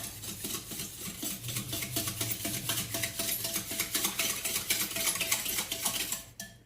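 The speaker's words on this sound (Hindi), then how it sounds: "इन सब को हम अच्छी तरह से मिक्स करके" Fruit souffle mixture with custard powder being stirred in a pan, a continuous close scraping and swishing of a spoon against metal, steady and moderately loud, with no speech.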